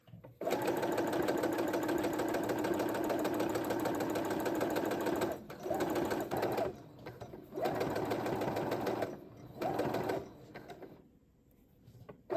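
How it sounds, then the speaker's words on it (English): Sewing machine stitching the channel along a facing on a pant waistband, running in long steady bursts with short pauses between runs, close and loud throughout. "I sewed the channel, the facing down to start the channel."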